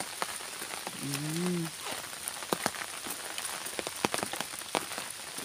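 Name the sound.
rain falling while walking under an umbrella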